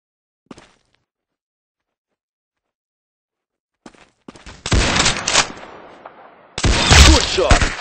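Video game gunfire in an arsenal setting: a couple of isolated sharp shots, then loud dense bursts of rapid automatic fire, close and harsh, with a brief pause between volleys.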